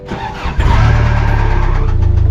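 A 1993 Toyota pickup truck's engine catches and settles into a loud, close, throbbing rev after a brief crank, running steadily with a rhythmic pulse.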